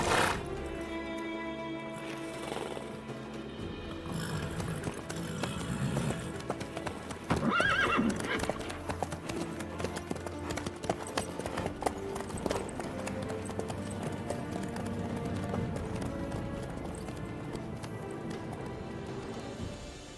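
In The Witcher 3, a horse's hooves clop in a continuous rhythm, joined by a whinny, over a steady bed of game music throughout.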